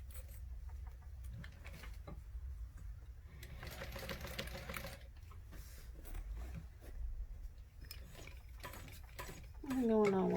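A sewing machine stitches a bag in short rattling bursts broken by pauses, while a person talks between and over the runs.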